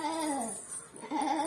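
A voice imitates a goat, giving a wavering bleat that breaks off briefly and then resumes, close and fairly loud.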